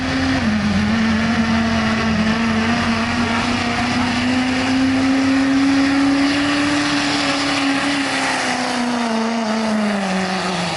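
A 600+ HP modified Duramax diesel truck weighing about 6,500 pounds runs down a drag strip on the inside lane, giving a loud, sustained engine drone with a slowly rising pitch that dips near the end.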